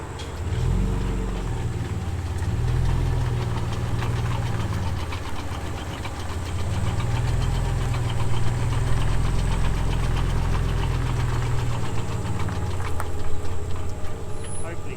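A Ford Territory 4WD fitted with a Lokka automatic diff locker, heard through a directional mic aimed at the car, gives a low engine drone with a rhythmic knocking and clunking that surges and fades in steady waves.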